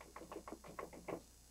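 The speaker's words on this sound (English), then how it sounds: "We heard someone knocking at our back door." A run of about seven quick knocks on a back door at night, fairly faint and evenly spaced, with no one talking.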